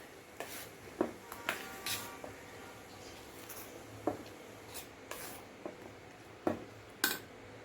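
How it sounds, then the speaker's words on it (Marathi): Urad dal batter being mixed by hand in a bowl, a quiet scraping and rubbing texture broken by irregular sharp taps and clinks against the bowl, close and without talk. "मस्त पीठ व्यवस्थित मिक्स करून घेतलं"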